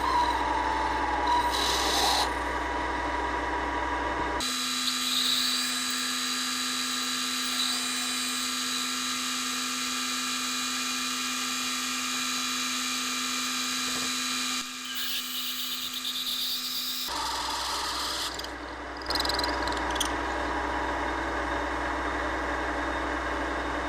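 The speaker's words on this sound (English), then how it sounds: "So 60 millimeters we're gonna drill the hole." A drill boring a hole through a wooden pen blank, a steady whirring grind lasting several seconds with a constant motor tone, close and alone, bracketed by rubbing and handling noise.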